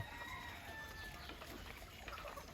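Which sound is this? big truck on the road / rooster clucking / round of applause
rooster clucking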